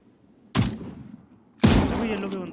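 Two loud gunshots in the video game PUBG, about a second apart, each sharp blast trailing into a rumbling decay, the second followed by sustained noisy reverberation.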